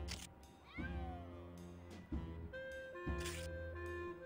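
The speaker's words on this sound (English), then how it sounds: "It's just a bunch of cats." Cats in the video game Grim Fandango meowing and caterwauling, several drawn-out yowls in a row over a steady musical background, with no talking.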